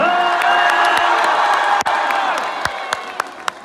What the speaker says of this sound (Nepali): आयोजकहरूलाई एकपल्ट जोरदार ताली दिएर धन्यवाद दिनु।